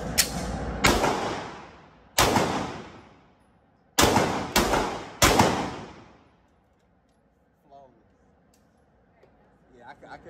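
A Glock pistol firing hollow point rounds, a series of sharp loud shots with ringing decay, two close together then three more spaced out, followed by quieter faint handling sounds.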